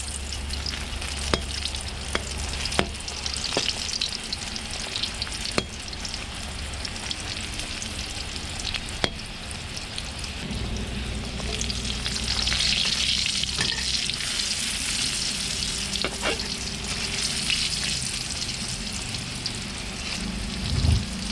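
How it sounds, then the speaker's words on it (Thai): Long beans fry in oil over low heat with a steady, soft sizzle and crackle, and a few sharper pops and clicks stand out over about twenty seconds. "ใช้ไฟอ่อนๆในการทอดนะครับ เหลืองแล้วก็คอยกลับด้านนะครับ"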